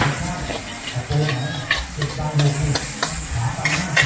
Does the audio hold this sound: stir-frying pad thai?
yes